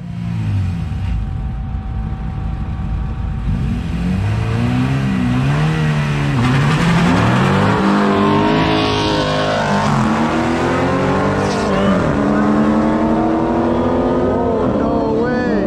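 Street-racing cars, including a Honda, roar and accelerate hard down a quarter-mile drag strip, their engines rising through the gears close by and loud, with people talking and cheering over them.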